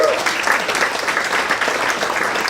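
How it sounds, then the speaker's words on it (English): Applause from an audience of about 300 gathered at a memorial program honoring a doctor's life, a dense, steady wash of clapping that stays loud throughout. "Can we please have an applause for all of you?"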